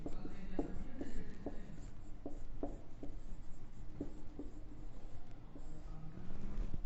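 Pen or chalk writing during a maths lesson: soft, irregular scratchy strokes and light taps come one after another at a quiet, close level, with a faint background hiss.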